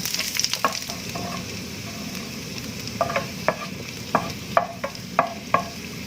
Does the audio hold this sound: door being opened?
no